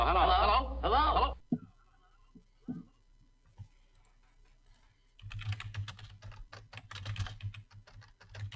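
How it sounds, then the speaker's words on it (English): Computer keyboard typing during a live-streamed social-distancing trivia night, a dense run of rapid clicks that starts after a short stretch of speech and a few scattered taps, fairly close and steady to the end. "Sorry, typing so much."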